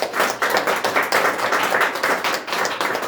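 A church congregation breaks into rhythmic applause, loud, close claps falling in quick regular bursts that pulse steadily throughout.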